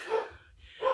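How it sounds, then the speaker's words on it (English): A dog barks twice indoors, a short loud burst at the start and another at the end with a quiet gap between, likely reacting to something outside. "Excuse the barking."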